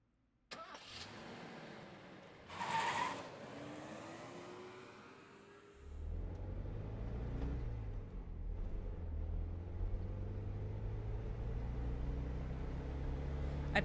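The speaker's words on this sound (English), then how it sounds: "I pull out the deserted parking lot and drive back to the mansion" A car in the video game Spirit Hunter: Death Mark starts up and pulls out of a deserted parking lot, its engine settling into a steady, close rumble that drones on to the end, with no talk over it.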